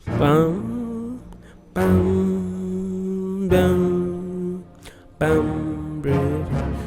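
A synth in an Afrobeats beat hits the chord changes with sustained tonal notes, playing four held chord stabs separated by brief gaps, loud and alone with no talking.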